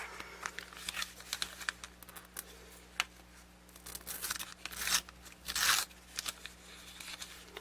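Wrapping paper torn slowly by hand from the back side makes close, irregular ripping and crinkling sounds, with short tears and a couple of longer, louder rips.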